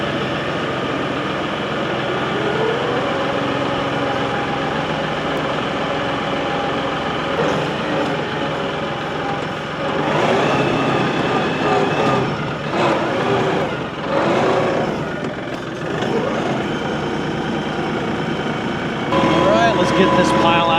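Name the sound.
tractor engine running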